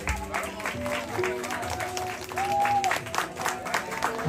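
Clapping from guests at a Marma community wedding as the cake is cut: a continuous spread of applause with voices and a few tonal sounds mixed in, rising slightly toward the end.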